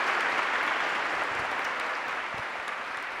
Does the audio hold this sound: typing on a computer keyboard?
no